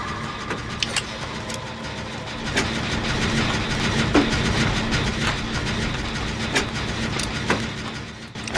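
Steady mechanical engine-like drone of a generator being repaired in the video game Dead by Daylight, continuous and moderately loud throughout, with faint clicks and game ambience and no talk.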